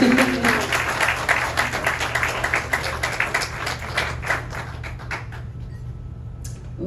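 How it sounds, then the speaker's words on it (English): Applause at a Kiwanis club meeting for the club president-elect, a crowd's dense clapping that thins into scattered claps and fades toward the end. "her round of applause for our club president-elect"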